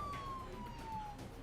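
A wailing emergency siren from the Emergency HQ disaster-management video game glides downward in pitch over a muffled background rumble, brief and moderately loud.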